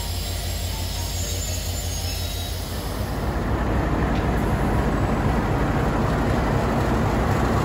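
An old Bangladesh Railway passenger train rolls past close by, its loud, continuous rumble and wheel noise swelling midway, with a thin high squeal running throughout and no voices.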